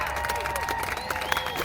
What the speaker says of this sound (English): round of applause for that,